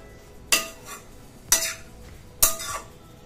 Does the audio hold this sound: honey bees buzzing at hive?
no